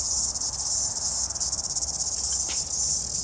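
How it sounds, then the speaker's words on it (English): Cicadas in New Zealand sing with a loud, piercing, continuous buzz that pulses slightly, close and steady from start to end, with no voices. "The cicadas are a wee bit of fun. They're an absolute classic in New Zealand. They get really noisy."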